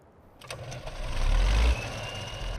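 A Zetor tractor engine in Farming Simulator 15 cranks and catches, a low rumble swelling to a loud, deep burst before settling into a steady idle, heard alone.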